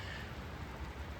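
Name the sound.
light rain falling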